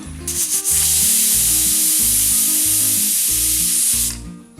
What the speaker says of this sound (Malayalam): കുക്കർ അടച്ചതിന് ശേഷം ഒരു വിസിൽ വരണം കേട്ടോ